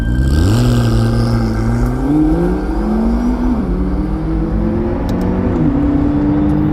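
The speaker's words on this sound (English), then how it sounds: "join us as we drive the sensational McLaren P1 for the first time" McLaren P1 hypercar driving on the Yas Marina circuit at dusk, a loud, close engine drone steadily rising and shifting in pitch through gear changes, with constant whirring road roar and no talking.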